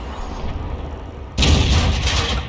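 In World of Tanks, an ISU-152 tank destroyer's heavy gun fires an armor-piercing shell, one sudden loud blast that rolls into a booming roar for about a second over low engine rumble.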